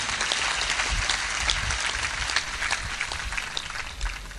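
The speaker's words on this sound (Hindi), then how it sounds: "ताली बजाकर अभिनंदन करो" Audience applause at a religious discourse gathering, a crowd clapping in welcome; dense, steady clapping runs loud and unbroken throughout with no voices.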